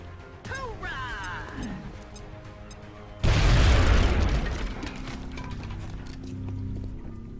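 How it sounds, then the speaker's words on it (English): A grenade goes off in the XCOM: Enemy Within video game, a single loud, sudden booming blast partway through that decays into rumble, with game sounds chirping just before it. "Gonna go ahead and nade him."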